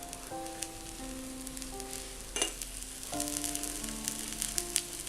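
Wheat flour upma being stirred with ghee in a pan gives a steady close sizzle with soft scraping strokes, while gentle background music plays throughout.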